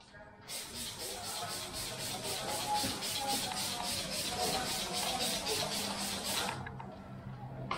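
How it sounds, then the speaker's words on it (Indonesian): Water sprays from a hand sprayer onto window tint film freshly stuck to a glass pane, giving a steady close hiss with faint rhythmic pulsing that lasts about six seconds and then stops. "Kalau udah ditempel begitu, itu kita semprot pakai air."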